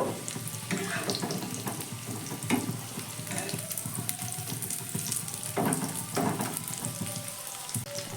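Homemade snacks deep-fry in oil with a bubbling, watery crackle and scattered pops, fairly close and continuous, no speech over it.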